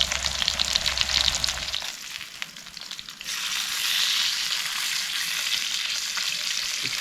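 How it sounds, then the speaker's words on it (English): Burgers sizzle and crackle over a campfire, a steady frying hiss that drops briefly midway and then returns at a fairly loud, even level, with no talking. "to get the burgers cooked before the fire will die off"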